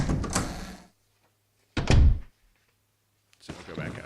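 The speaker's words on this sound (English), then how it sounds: "What that did was that opens the door across the hall." Door opening in the Resident Evil HD Remaster video game: a heavy thunk and creak in two bursts separated by a quiet gap, with another sound rising at the end.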